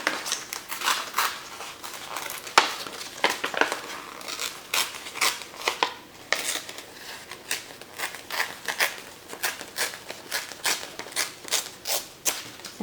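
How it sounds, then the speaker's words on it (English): Paper torn by hand with a rough tear technique for junk journal pages, a quick run of short crisp rips and crinkles, close and fairly quiet, with no talking. "I'm going to do my rough tear technique."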